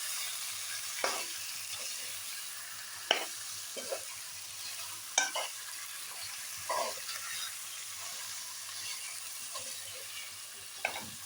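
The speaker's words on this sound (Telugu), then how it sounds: "చికెన్ వేసేస్తాము." Chicken seasoned with turmeric, salt, coriander powder and masala fries in a pan, a steady moderate sizzle with sharp scraping stirs every second or two, close and without speech.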